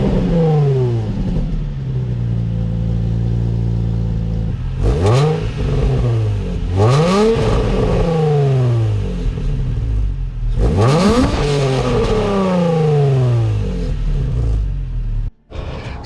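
A Nissan 350Z fitted with a Flashark Y-pipe single exhaust revs repeatedly, with several deep, rising and falling bursts over a steady idle rumble, loud and close.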